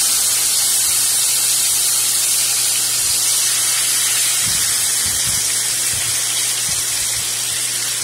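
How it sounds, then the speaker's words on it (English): Lamb chops sizzle in hot oil in a pan, a loud, continuous crackling hiss with scattered low knocks and thumps from the stove area. "You hear that sizzle? That means it's popping."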